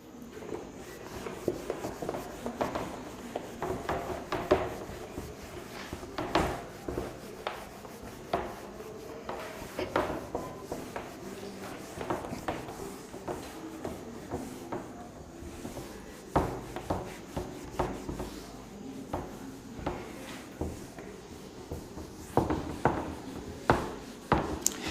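Rubbing and scraping as a classroom board is wiped clean during a physics lesson, with a steady run of close, irregular scrubbing strokes and occasional knocks lasting throughout, no talk.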